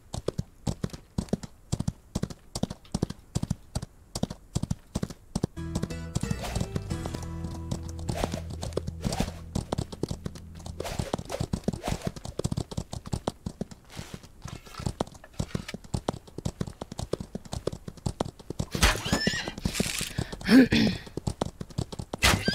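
Rhythmic clip-clopping hooves repeat steadily in the video game Outlaws of the Old West, joined midway by a horse's neigh and other scattered clatter, with no speech.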